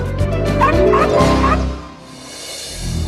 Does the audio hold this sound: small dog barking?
yes